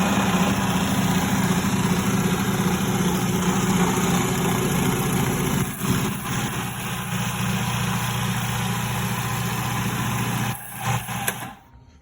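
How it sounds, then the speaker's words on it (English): Food processor grinding almonds into homemade almond butter, a loud, steady motor drone that holds for the whole stretch with a couple of brief dips before cutting off at the end. "you put it in the food processor"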